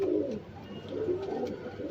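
Soft, low pigeon coos repeat in a gentle rolling rhythm, close by, with a faint background hum.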